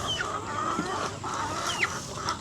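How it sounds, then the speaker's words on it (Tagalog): Backyard chickens and hens cluck and chatter steadily while pecking at feed of jackfruit and guyabano leaves, a dense overlapping flock close by with occasional sharper squawks. "Mukhang enjoy na enjoy naman sila. Magana yung mga manok namin actually."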